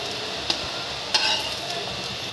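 Sabudana potato tikki fry in a pan, a steady soft sizzle with a few sharp clicks of a utensil against the pan spaced through the short stretch, no voices.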